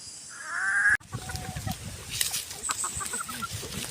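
Labuyo junglefowl roosters give a loud crowing call that cuts off abruptly, followed by scattered clucking and rustling in an outdoor setting.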